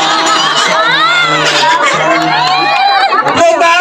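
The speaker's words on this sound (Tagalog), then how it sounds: "The crowd is so noisy!" Loud, dense crowd of children and adults shouting and cheering at a lively stage show, a continuous wall of overlapping voices close by.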